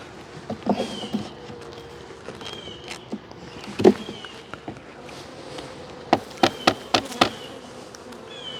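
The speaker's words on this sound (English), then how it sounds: "there's a few bees in here." Honey bees buzzing around an open hive during an inspection, a low steady drone with several sharp nearby buzzes and bumps, close to the microphone, with no talking.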